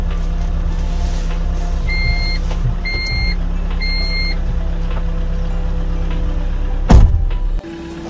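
Versalift SST40 aerial lift unit mounted on an Iveco Daily, running with a steady mechanical hum and low drone, with three short paired beeps early on and a sharp clunk near the end before the tone shifts.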